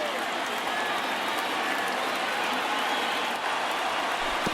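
A stadium crowd of some 36,000 roars and cheers steadily at a Brewers–Phillies game in MLB The Show 19, a dense, loud, unbroken wall of noise rising as the final strike approaches.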